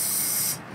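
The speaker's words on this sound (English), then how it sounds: "And just start spraying." A short, close hiss of aerosol carbon cleaner sprayed into a GDI engine blasts steadily, then cuts off abruptly.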